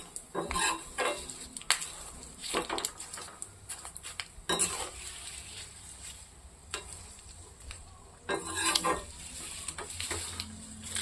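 Curry leaves and onion fry in hair oil in a pan, giving a soft steady sizzle broken by repeated sharp scrapes and clinks of a utensil stirring against the metal, fairly quiet and close, with no talking.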